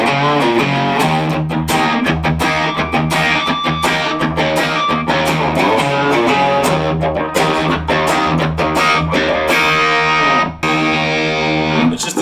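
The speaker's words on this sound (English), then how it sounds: "It's just the sound of an amp dying." An electric guitar plays through a Jackson Audio Silvertone amp pedal pushed hard into a fuzzy, distorted tone, loud and continuous, with thick sustained chords and picked notes that break up and fold over, no voices.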